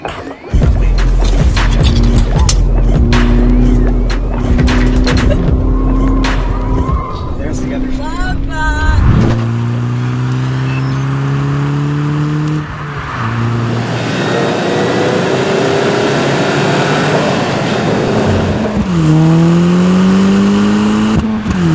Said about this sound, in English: We are up on the Kankamangas Highway driving the 2014 GTI